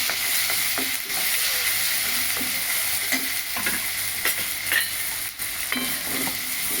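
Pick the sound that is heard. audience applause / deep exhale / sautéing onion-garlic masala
sautéing onion-garlic masala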